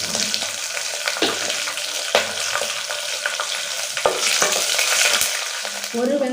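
Dried red chilies, green chilies and onion frying in a pan for tomato rasam, giving a steady close sizzle with occasional stirring clinks and scrapes.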